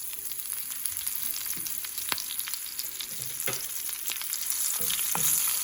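Green chilies sizzling in hot oil for a lemon rice tempering, a bright steady crackle with sharp pops and a spoon clinking now and then, close and unaccompanied by speech.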